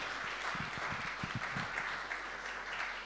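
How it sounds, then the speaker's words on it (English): Quiet, steady applause from a Sunday morning gathering on a livestream, soft and somewhat distant, a continuous patter with a few low murmurs beneath. "Give another round of applause."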